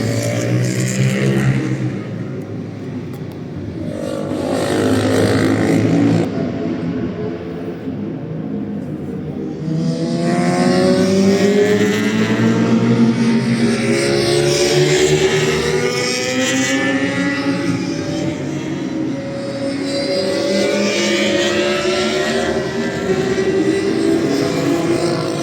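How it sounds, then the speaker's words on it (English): Racing motorbikes at the Le Mans circuit in France, their engines rising and falling as they pass and rev, loud and continuous with overlapping machines sweeping by. "There's some bikes for you to watch and listen to."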